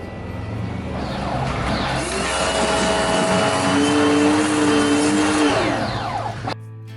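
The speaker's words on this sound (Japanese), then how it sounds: "高圧洗浄機で洗っていきたいと思います" A high-pressure washer sprays water over a Super Cub motorcycle gas tank, a loud continuous hissing roar with a motor drone and rising whine that holds for several seconds before cutting off abruptly.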